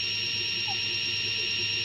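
Simulated CNC lathe with the spindle rotating, a steady high-pitched electronic whine holding constant and fairly faint for a couple of seconds, with no talking.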